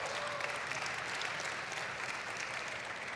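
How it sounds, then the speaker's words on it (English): A crowd at an auto show applauds a group of seventh-grade students on stage, a faint, steady, distant wash of clapping that carries on unbroken. "can we get a round of applause for these guys up here?"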